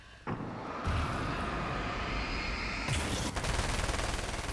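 Machine gun fire in the video game Alan Wake's American Nightmare: loud, sustained automatic bursts rattle almost continuously, with a brief pause and then a renewed stretch of rapid shots.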